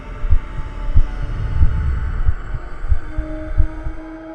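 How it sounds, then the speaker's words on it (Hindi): A dramatised heartbeat sound effect, a heart pounding hard, gives deep, heavy thumps in a steady rhythm over a low hum, loud and close, with no voices. "दिल जोरों से धड़कने लगा।"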